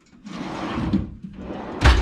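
A toolbox drawer on an ICON 73-inch toolbox slides open smoothly on its runners with a soft rolling rumble, then another slide ends in a sharp metallic clunk.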